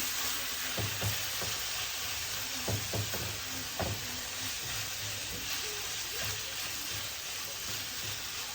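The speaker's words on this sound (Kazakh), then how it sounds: "жақсылап араластырып, фаршымызды қуырамыз" Minced meat frying in a pan with salt and black pepper: a constant, close hiss of sizzling fat broken by repeated knocks and scrapes of a utensil as it is stirred.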